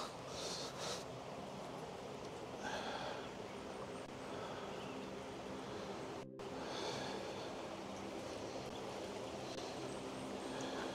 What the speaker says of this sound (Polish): ta rzeka dosyć jest rwąca